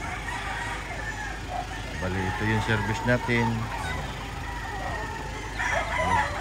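Roosters crowing in a backyard yard, a clear crow rising in the middle over steady background noise, with someone talking nearby.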